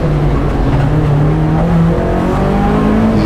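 A small 1200 coupe fitted with a Honda engine accelerates hard up a hillclimb course, its engine note rising and shifting loudly and continuously as it climbs, with no voices.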